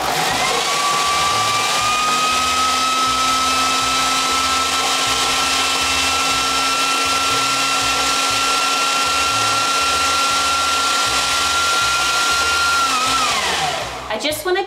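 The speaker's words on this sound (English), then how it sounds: "tomatoes in the food processor, lid on, tears have stopped. Let's puree." A food processor pureeing tomatoes runs as a loud, steady motor whir with a sustained whine for about thirteen seconds, then spins down and stops, no voices over it.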